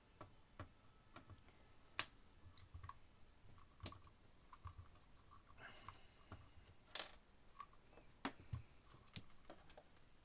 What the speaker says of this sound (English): And then you can take out this Phillips screw here.